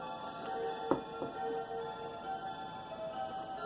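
A clock ticks steadily and faintly in a quiet room, with a couple of sharper clicks near the start over a low hum.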